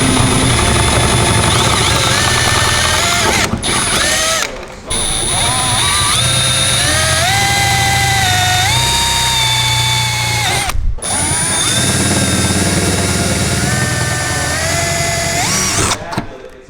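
A power drill bores holes into the rear quarter panel of a BMW E36 being fitted with a widebody kit, its loud, steady whine rising and falling in pitch with brief pauses between bursts.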